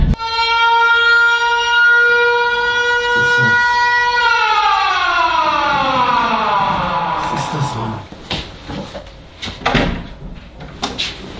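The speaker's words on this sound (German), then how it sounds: "Es ist eine Sirene draußen" A loud siren winds up and holds steady outdoors in Finland, then its pitch slides downward as it winds down, with people's voices breaking in toward the end.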